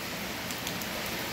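Steady light rain falls in Crato in the Brazilian sertão, a soft, even hiss of drops with no distinct events and no talking.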